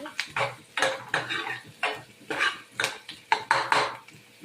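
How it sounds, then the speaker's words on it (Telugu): Onions fry in a pan, heard as a series of loud metallic clatters and scrapes from the pan and utensil, roughly two per second and close up, with no one speaking. "ఆనియన్స్, ఫ్రై ఆనియన్ ఫ్రై చేసేద్దాం."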